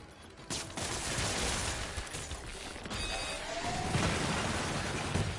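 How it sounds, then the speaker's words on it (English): Rapid turret gunfire in the PS5 game Spider-Man Remastered, a dense crackling burst of shots running continuously with mechanical clanks and swelling in intensity toward the end. "Right, we're going to dodge the turret."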